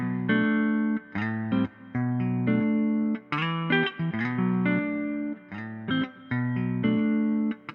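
A sampled Les Paul-style electric guitar from a Kontakt library plays an Afrobeat pattern of short, articulated harmonic phrases in a steady syncopated rhythm, close and bright, with brief gaps between figures and no voices.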